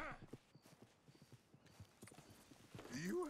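Horse hooves clip-clop in the video game Red Dead Redemption 2, a quick, regular run of light hoof strikes under dialogue, closing on a short whinny.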